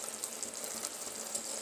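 Water poured into a cooking pan while making mitta salna, a brief continuous splashing hiss, close and fairly quiet.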